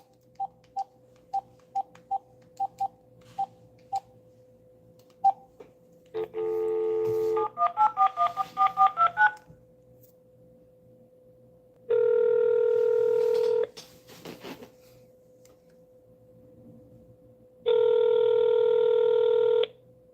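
A phone dials a client's number with a quick run of short keypad tones, followed by three long, evenly spaced ringback tones separated by silence.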